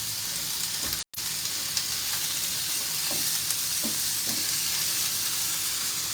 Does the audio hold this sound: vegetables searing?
yes